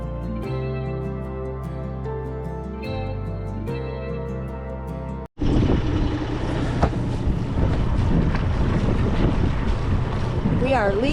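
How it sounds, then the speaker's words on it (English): Gusty wind roars loudly across the microphone with a rushing water wash as a sailboat leaves Mackerel Cove in Maine, cutting in abruptly after a stretch of steady music and staying dense and continuous. "the wind is starting to pick up, so I might be able to sail here"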